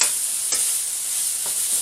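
Chicken and vegetables stir-fry in a pan with a steady bright sizzle, broken by two brief scraping stirs, close and alone with no talking.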